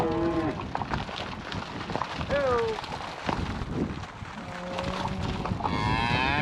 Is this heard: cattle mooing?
yes